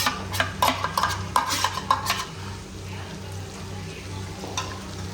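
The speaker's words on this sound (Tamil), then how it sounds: "அப்படியே நல்லா கிண்டி விட்டுக்கிறேங்க" Octopus masala being stirred with garlic paste in a frying pan, a spatula scraping and clinking against the metal in quick bursts over a steady close sizzle.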